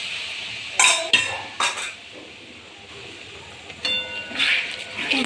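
Spices such as cumin and coriander powder being stirred in a pan for egg biryani, with scraping spoon strokes and metallic clinks of utensil on cookware in a few short bursts.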